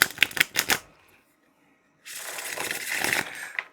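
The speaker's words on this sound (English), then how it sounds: "let's just have a quick shuffle because I cannot stop myself from shuffling it" A tarot card deck is riffled and shuffled in a few quick bursts, then a pause, then a longer continuous papery shuffle close by, with no talking.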